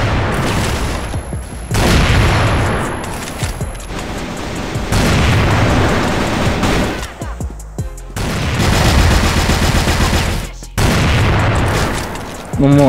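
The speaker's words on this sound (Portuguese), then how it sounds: "vocês vão falar que eu tô errando esses tiros" Rapid gunfire from a shooter video game, bursts of loud shots with booming impacts packed across the whole stretch, nearly continuous with brief gaps.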